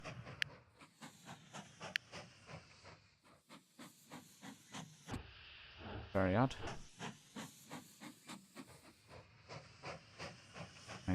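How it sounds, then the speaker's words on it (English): A steam train in the Mashinky video game chuffs in rhythmic repeated hissing puffs, with a brief whistle-like squeal midway, while someone speaks briefly over it. "Not sure where that train's going."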